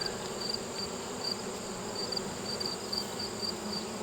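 Dense, steady hum of many honeybees inside a hive that was raided and robbed of honey, a continuous close drone with faint high whines drifting across it and no voices.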